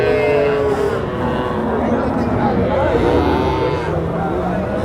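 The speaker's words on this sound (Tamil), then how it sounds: "கண்ணு மாடு." Cattle, including a cow with calf, lowing amid a busy livestock market, with a steady wash of background noise and voices mixed in throughout.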